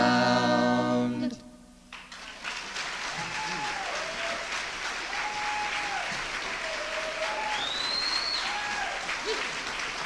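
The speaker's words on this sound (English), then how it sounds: "See, Pat, they like that song" Audience applause after a live folk song at a 1991 concert, steady clapping that swells in after the music ends and holds for several seconds, with a few voices and whoops in the crowd.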